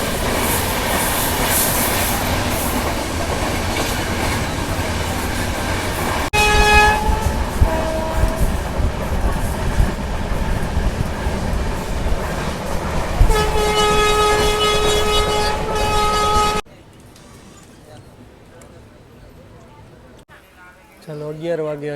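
A train rumbles through Halmatiya railway station on the Rajkot line, its steady roar joined by a long horn blast and squealing wheels, then the noise drops away abruptly to near quiet; a voice talks over the passing train.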